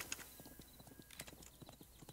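Many horses' hooves clip-clopping in the strategy video game Thronefall, a faint, busy patter of overlapping hoof strikes with no pause throughout.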